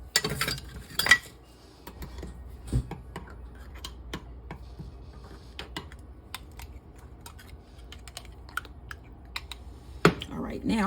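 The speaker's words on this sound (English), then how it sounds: "I'm gonna stir this up." Jarred Barilla rustic basil pesto being stirred in a container, heard as a steady run of soft clicks and scrapes from a utensil, with a couple of louder knocks at the start and end and quiet room tone between.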